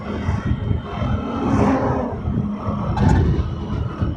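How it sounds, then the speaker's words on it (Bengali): A motorbike riding at about 60 km/h on a road toward a fair beside a river, with a rushing wind-buffeted engine roar that swells and eases, heard close throughout with no talking. "আমাদের বাইক চলছে এখন 60 কিলোমিটার গতিতে।"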